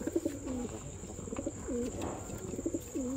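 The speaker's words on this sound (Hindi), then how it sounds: "और कबूतर भी अच्छा लिया है।" Domestic pigeons, including sabza patta birds, coo in deep repeated rolling phrases, three or four close throaty calls over a low room hum, with faint chirps in between.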